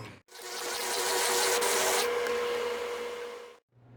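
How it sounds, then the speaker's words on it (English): A kitchen blender whirs steadily for about three seconds, mixing a thick pancake batter, starting and stopping abruptly with a loud, even drone and no talking. "You don't want to blend this too long, but I do like to get it thoroughly mixed."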